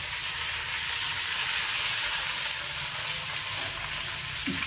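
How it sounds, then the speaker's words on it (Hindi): Mustard seeds, curry leaves and onion crackle in hot oil as a bharta is tempered: a loud, dense, steady sizzle with a soft stirring scrape near the end and no speech. "चलिए अब हम भरता छौंक देते हैं। सबसे पहले डालेंगे राई, फिर कड़ी पत्ते और फिर प्याज"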